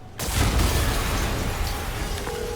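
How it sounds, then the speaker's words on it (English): An explosion in Marvel's Spider-Man bursts in abruptly and loudly, then lingers as a sustained roaring rumble with debris-like crackle that slowly fades. "an explosion just... I saw it."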